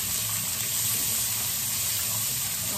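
A whole medium-large onion sautés in a pan still holding meat juices, giving a dense, continuous close sizzle with no pauses and no talking.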